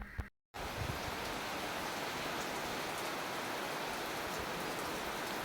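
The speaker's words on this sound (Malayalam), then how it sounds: "നല്ല രീതിയിൽ മഴ പെയ്യുന്നുണ്ട്" Steady, heavy rain pours down in a dense, continuous hiss, close and unbroken after a brief moment of silence near the start.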